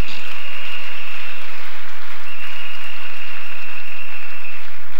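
A church congregation applauds during a Sunday service, a steady, loud wash of clapping that holds without pause throughout, with a faint tone and hum underneath.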